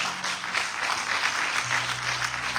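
A church congregation applauds steadily, a dense wash of clapping that carries on evenly for a few seconds without any talk.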